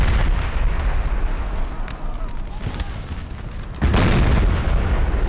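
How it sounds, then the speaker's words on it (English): Cannon fire in the video game Napoleon: Total War during a multiplayer battle, heavy booming blasts and rumbling battlefield noise, with a loud burst near the end. "But his cannon actually fired."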